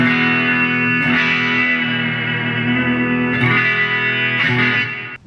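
A Fernandes FR prototype electric guitar rings out loud and sustained through heavy distortion, with three chords struck in turn and left to ring, and no talking.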